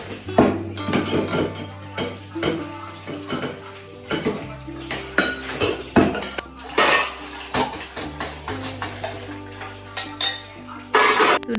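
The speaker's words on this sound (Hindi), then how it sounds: "ढेर सारे बर्तन हो गए थे, तो सबसे पहले मैं बर्तन वॉश करूँगी और उसके बाद सिंक वगैरह अच्छे से क्लीन करूँगी।" Dishes, pots and cutlery are washed in a home kitchen sink, with loud, close clatter, clinks and scraping in irregular bursts over running water.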